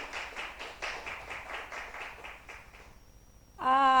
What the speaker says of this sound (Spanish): Un aplauso para el Señor, hermanos